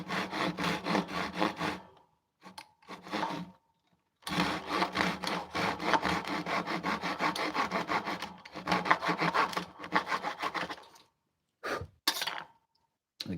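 A hand saw cuts through a wooden board at a 45-degree angle in rapid rasping back-and-forth strokes. Long runs of steady strokes break off into brief pauses and short bursts, close and fairly quiet with no talking.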